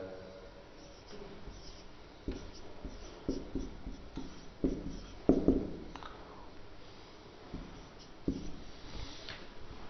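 A pen drawing a right-angled triangle diagram on paper, with light scratching strokes and taps recurring irregularly and a few firmer strokes near the middle, close and faint.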